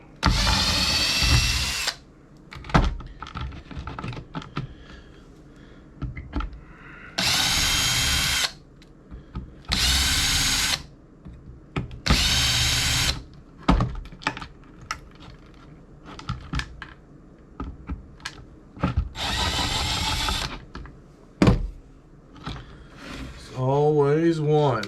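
A power drill runs in repeated short bursts while taking apart an old record player, with loud whines separated by pauses full of handling clicks and clatter near the bench.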